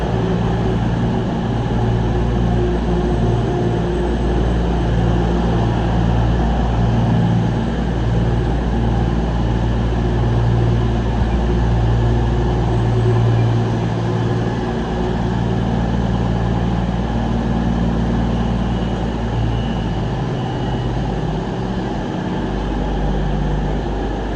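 CrossCountry class 220 or 221 diesel multiple unit idling at a station platform, a steady low engine drone with a continuous rumble and faint tonal hum throughout, no voices.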